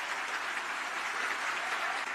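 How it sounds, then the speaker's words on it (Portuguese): Audience applause fills the whole stretch, steady and dense with many hands clapping at once, loud and close with no pause, at a Brazilian event honoring journalists for their investigative work. "Vocês merecem, junto com o Davi Agap, a maior salva de palmas por estar fazendo o trabalho."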